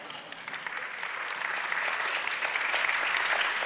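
Audience applause at an opening session of a climate ideas conference, a steady wash of clapping from a sizable crowd that swells slightly and holds on its own with no talk.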